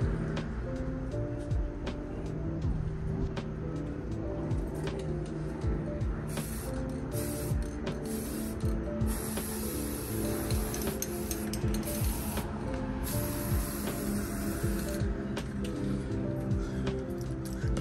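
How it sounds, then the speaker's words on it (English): Steady hiss of spray primer being applied to Dodge Challenger exterior trim for a chrome delete, continuous and close, with brief breaks where the nozzle is released. "that's our first coat of primer"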